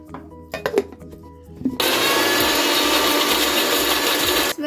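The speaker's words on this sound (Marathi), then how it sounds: "हे पहिला मिरची आणि धणे बारीक वाटून घेते मी मिक्सरमधलं" A few clinks and knocks, then a mixer grinder grinding chillies and coriander seeds kicks in loudly and grinds continuously with a rough, gritty roar until it cuts off.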